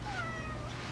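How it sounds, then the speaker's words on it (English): A kitten in a travel trailer lets out a single drawn-out meow, close and fairly soft, with no talking. "And there's the kitten."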